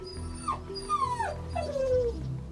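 A dog whimpers and whines in a few rising-and-falling cries, close and clear against quiet background noise, with no talking.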